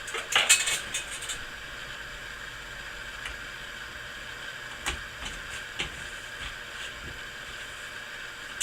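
A metal spring pulled from an AR-15 gas piston tube gives a quick cluster of bright metallic clinks and rattles up front, then only a few faint scattered taps over a quiet hiss.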